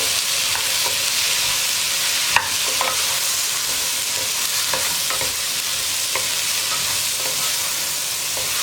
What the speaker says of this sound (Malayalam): നമുക്കിതെല്ലാം ചേർത്ത് ഇളക്കി യോജിപ്പിക്കാം